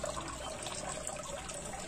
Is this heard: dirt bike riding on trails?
no